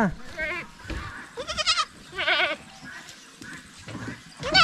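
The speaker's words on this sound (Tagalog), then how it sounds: "Pina-exercise natin yung mga kambing natin na mga maliliit." Young goat kids bleat repeatedly on a farm, several wavering high cries in bursts with short pauses between, fairly close and moderately loud.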